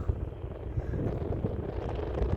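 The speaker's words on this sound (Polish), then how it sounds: "dzisiaj troszeczkę są fale i wiatr" Steady wind buffets the microphone with a low rumbling roar, and the wash of sea waves blends underneath at a resort beach in Marsa Alam, Egypt; no talking.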